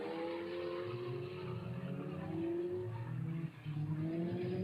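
V8 dirt modified race cars roar around the track at Lismore Speedway, a steady loud engine drone with shifting revving tones as the cars pass and brief tire noise, with no talk.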